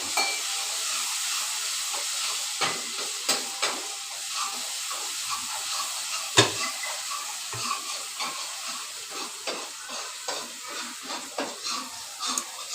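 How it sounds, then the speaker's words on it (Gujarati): Dal being tempered with spices in a home kitchen: a continuous steady sizzle and hiss of frying, with frequent utensil clinks, scrapes and stirring knocks against a pot close by. "ડામોર સાહેબ દાળ વઘારે છે"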